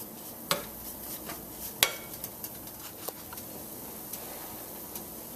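A roux for scalloped potatoes being stirred in a pot, soft scraping with sharp, irregular taps and clinks of the utensil against the pot, fairly quiet and close.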